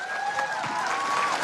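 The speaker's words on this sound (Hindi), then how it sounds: "ताली तो बजा दो अम्मा के लिए।" Audience clapping for an elderly mother at a public talk in Rajkot, Gujarat, a steady wash of applause throughout with a faint tonal whistle or feedback line running over it.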